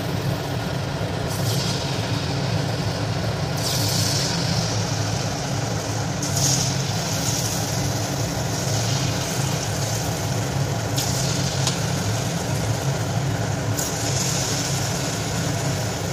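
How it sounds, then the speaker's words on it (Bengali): Small palm fruit fuluri batter balls fry in plenty of hot mustard oil over a low flame, making a continuous dense sizzle and bubbling that stays steady and close throughout, with no talking. "এভাবে ছেড়ে দিয়ে আমি ভালোভাবে লাল লাল করে ভেজে নেব।"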